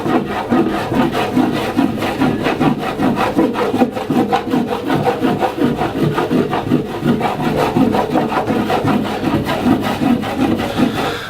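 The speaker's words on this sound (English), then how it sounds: "just hold the wax, so light pressure, just little circles" A bar of surf wax rubs across a surfboard in small, light circles, making a close, steady rhythmic scraping with even repeated strokes throughout and no voices.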